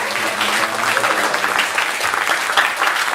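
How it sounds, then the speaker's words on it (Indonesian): A crowd at a theatre festival awards night applauds steadily and loudly, with dense, continuous clapping that holds an even level throughout. "Tepuk tangan dulu untuk semua pihak."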